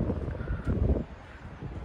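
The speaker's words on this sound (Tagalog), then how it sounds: "Mahangin. Salamat Lord sa hangin." Wind gusts buffet the microphone in low, rumbling bursts that swell and ease, atop the Skyville sky garden at Dawson, Singapore.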